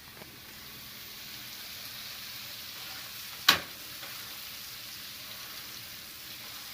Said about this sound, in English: Put the meat in the frying pan.